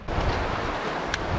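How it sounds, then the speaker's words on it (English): Mountain waterfall pouring out of a high alpine basin between rocky peaks, a loud, broadband rushing roar heard close and steady, with a touch of wind buffeting. "This waterfall comes out of a basin that is called Iceland"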